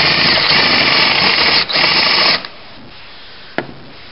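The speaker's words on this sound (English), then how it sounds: "I am going to drill the bowl with a half-inch drill bit." A power drill fitted with a half-inch bit bores into a pipe bowl, a loud steady whine for about two seconds before it cuts off, followed by a single sharp click.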